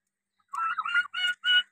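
Turkeys offered for sale, black and white birds, gobble in three or four close, loud bursts after a moment of silence, with no talk.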